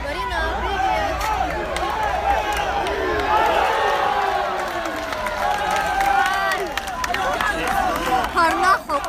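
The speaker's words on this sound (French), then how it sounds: "on peut remercier et qu'on peut applaudir pour ce combat" A crowd at a K-1 kickboxing event in a club cheers and claps after a fight, a broad roar of voices and applause with an announcer talking over it.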